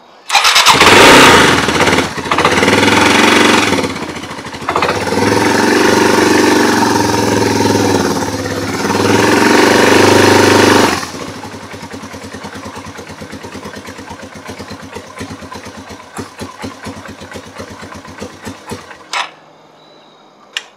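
A Yamaha Timberwolf ATV with the choke on starts up loudly, revving hard for several seconds before settling into a quieter, uneven idle that sputters and then cuts out near the end.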